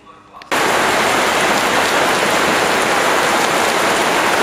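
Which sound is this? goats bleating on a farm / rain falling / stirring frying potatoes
rain falling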